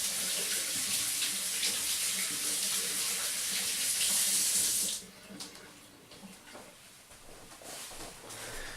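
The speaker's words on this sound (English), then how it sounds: "Let me just rinse my hands off here" Water runs steadily from a tap while hands are rinsed, a loud close hiss that stops abruptly midway and leaves faint splashes and small handling noises.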